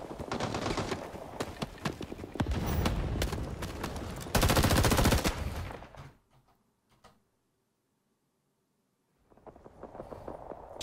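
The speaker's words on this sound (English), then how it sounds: "So machine gunners, we need maximum fire on Delta." Machine gun fire in Rising Storm 2 Vietnam, dense loud bursts of rapid shots that cut to near silence before firing resumes.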